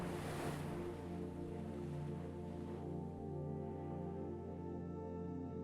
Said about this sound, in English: waves lap against ancient stones